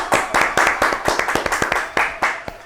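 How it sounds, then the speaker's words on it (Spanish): A small group claps for a podcast guest in a short, close burst of uneven hand claps, loud and dry, lasting a couple of seconds with no talking over it. "Un aplauso para Fabián."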